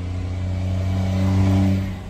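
A small truck engine revs up as the accelerator is pressed, the rumble climbing to a peak and then easing back, close and loud.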